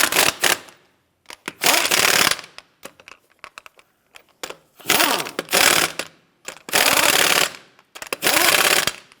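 Impact wrench snugging lug nuts onto a 1992-1996 Toyota Camry hub during a hub and bearing replacement, heard as several loud, close rattling bursts of one to two seconds each, separated by pauses and small clinks.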